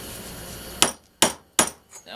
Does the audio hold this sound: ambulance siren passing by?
no